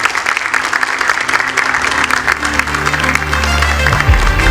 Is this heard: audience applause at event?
yes